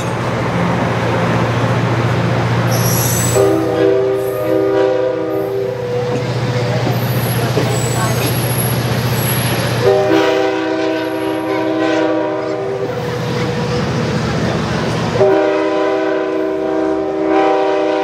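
A train pulls in at a Santa Barbara station during National Train Day, its horn sounding three long loud blasts over a rumbling engine, with wheel squeal and brake hiss in between.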